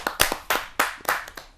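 Clapping at a Hindi kavi sammelan welcomes a poet to the stage: a short burst of sharp, separate handclaps, close and fairly loud, sounding like only a few hands rather than full applause.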